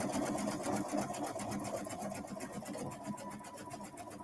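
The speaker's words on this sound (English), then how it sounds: "I'm actually going to sew it the long way together, overlapping" A sewing machine stitches narrow quarter-inch elastic for a swimsuit, giving a fast, steady, close mechanical rattle that runs continuously without pause.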